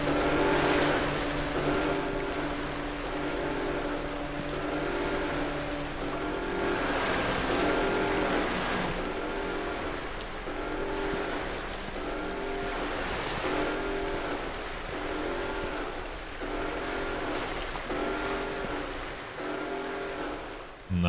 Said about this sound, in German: Jetzt wird das Wasser abgelassen wahrscheinlich